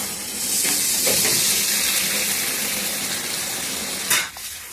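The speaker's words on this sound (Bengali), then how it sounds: "এখন দিয়ে দিচ্ছি জলটা" Water pours into a hot pan of cooked eggs and broad beans, raising a loud, continuous steamy hiss and sizzle for about four seconds before it settles abruptly.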